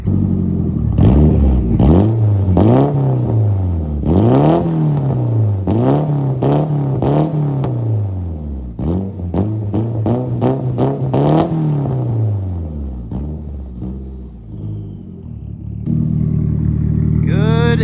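A Nissan SR20 engine in a C33 Laurel revs again and again, each loud rising and falling sweep close by, then settles into a rough idle toward the end.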